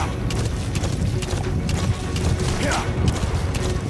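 A horse gallops in the Metal Gear Solid 5 video game with a fast, steady drumming of hooves, close and loud, under excited speech and a brief whinny.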